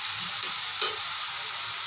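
A spoon stirs dal with bottle gourd and vegetables in a hot pot, giving a loud, steady hiss with two brief scraping swishes of the stirring.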